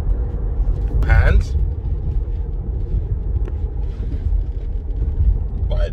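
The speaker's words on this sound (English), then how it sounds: "This vehicle has full self-driving capabilities" A Tesla car drives under full self-driving, heard from inside as a steady low road rumble with a voice speaking briefly over it.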